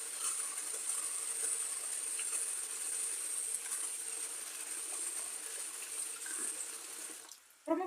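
Rice for pilaf being rinsed under a running tap until the water runs clear, a steady hiss of flowing water into a bowl, with a short clatter at the end.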